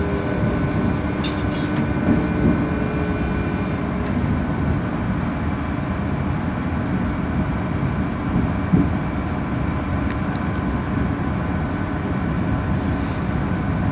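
A train pulling out of Leeds station, heard from on board as a steady low rumble and broad hiss of running carriages, with faint rattles and a few brief squeals, no talk.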